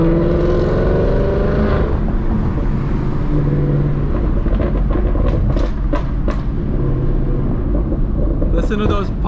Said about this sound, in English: Listen to those pops, boys and girls.